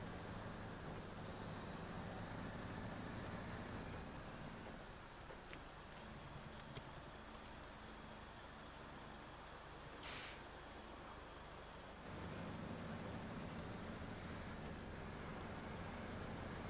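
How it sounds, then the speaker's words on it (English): Steady rain hiss in the SnowRunner video game on hard mode in the Michigan map, a constant wash of patter with a brief dip in the middle, no talking. "I know it's raining"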